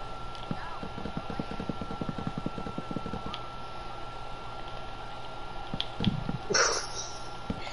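Rapid clip-clop of horse hooves in the video game Minecraft, a quick run of light steps for a few seconds under faint background sound, with brief voices near the end.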